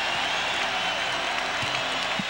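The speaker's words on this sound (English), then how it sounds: "Standing ovation from the crowd" A crowd giving a standing ovation at a 1994 Eastern Conference Finals basketball game between the Pacers and Knicks, a dense steady roar of cheering and clapping that fills the arena, with no clear breaks.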